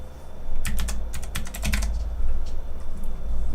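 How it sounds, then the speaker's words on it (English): Close, crisp bursts of computer keyboard typing come in quick clusters of keystrokes with short pauses between them, over a low steady hum, while a game developer works at the desk. "Still not used to my keyboard."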